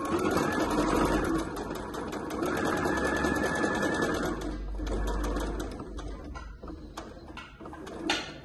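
A sewing machine stitching a seam on a digitally printed tricoline fabric wallet, running in a steady close mechanical whir with rapid needle clatter, slowing and stopping near the end, no talk.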